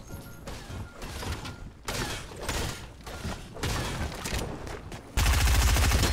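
Rapid gunfire in the Fortnite video game, bursts of shots and rattling automatic fire repeating in clusters, fairly close, with a loud burst at the end, no talking.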